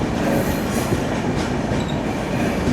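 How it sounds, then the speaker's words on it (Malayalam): The Sabari Express stands at Kollam station with loud, close rumbling from the train and rhythmic wheel clatter on the rails, plus faint squeals, and no voices. "ഇപ്പുറത്ത് നമ്മുടെ ശബരി എക്സ്പ്രസ് ഇറക്കുന്നുണ്ട്."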